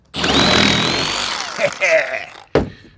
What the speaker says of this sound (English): I'm gonna use the Sawzall this time, guys. I ain't playing around with no hacksaw anymore.